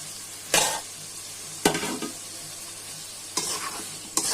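Fish curry with tomato and boiled potatoes sautéing with spices in a pan, a low sizzle broken by four sharp scraping stirs of a spatula against the pan.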